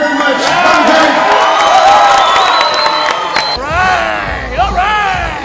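A sold-out fight crowd cheers and whoops loudly, a dense wash of voices with individual shouts rising and falling, thinning briefly before more yells break through.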